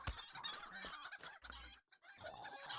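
Chickens clucking in Lord of the Rings Online during a free-range chicken run, several busy overlapping clucks and squawks close by with a brief pause near the end.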